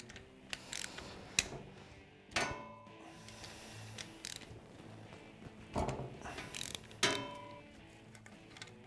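Metallic clinks and ratcheting clicks while the drain bolt and oil screen come out of a KTM 690 engine case during bottom-end disassembly, heard as sparse, uneven taps and scrapes at close range in a quiet workspace.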